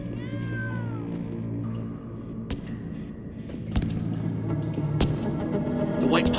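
Stampy Cat in Minecraft meows with a rising and falling cry near the start, followed by sharp game thumps and bangs, with low background rumble throughout.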